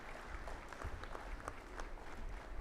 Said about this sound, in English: Let's give them a loud hand clap.